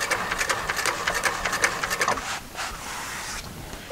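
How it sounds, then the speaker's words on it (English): A sewing machine stitches along a marked line on vinyl dining chair upholstery, its needle chattering in fast steady bursts close by, with brief pauses between runs. "I'm stitching down the line, and I'm making sure this foot, the edge of this foot,"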